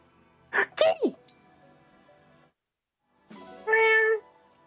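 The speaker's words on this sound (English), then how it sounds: "Kitty!" A cat meows in the video game Fire Emblem Engage, two short meows near the start and a longer drawn-out meow after a pause, clear and close, alongside a brief voice.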